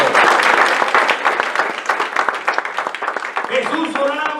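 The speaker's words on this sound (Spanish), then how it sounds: "Denle un aplauso al Señor." Applause from a church congregation during a Spanish-language service, loud clapping that fades and grows uneven, with voices rising near the end.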